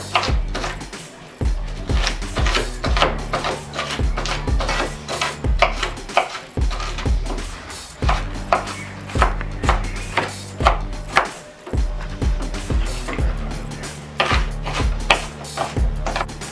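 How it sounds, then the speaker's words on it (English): A knife chopping onion finely on a board for meatballs, a long run of close, loud, rapid irregular knocks against the board, with no talking. "So I just want you to get it nice and chopped as fine as you can get it."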